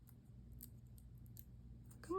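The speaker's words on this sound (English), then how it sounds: "Cut that little piece off." Scissors snip a small piece of paper or sticker for Bible journaling, a few quick close cuts against a quiet room with a faint rustle at the end.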